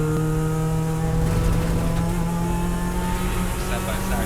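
Endurance race cars running side by side down the back straight at Road Atlanta, a loud, steady engine drone with sustained whining tones, close and continuous, with commentary over it.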